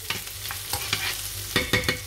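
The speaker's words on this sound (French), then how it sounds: "Voilà, on remue." A utensil stirs food frying in a pan, making a series of quick scraping strokes over a soft sizzle, close and moderately loud, with no voices.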